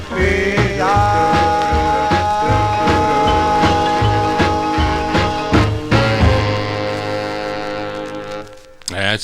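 A 1950s doo-wop vocal group record, playing loud and steady with a pulsing bass beat and bright harmonies before ending on a final chord.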